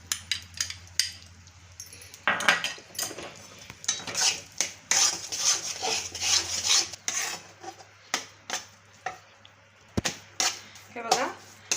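A spoon scrapes and stirs gram flour roasting in ghee in a pan for chickpea laddoos, making close, rhythmic rasping strokes that repeat steadily with short pauses.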